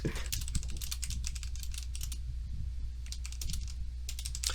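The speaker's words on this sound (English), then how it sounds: "Just typing." Rapid typing on a computer keyboard, a steady run of close, crisp key clicks with brief pauses, heard during a live podcast with no voices over it.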